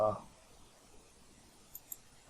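A computer mouse gives two faint, quick clicks close together in a quiet room, just after a brief louder sound at the start.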